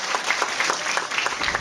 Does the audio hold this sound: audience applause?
yes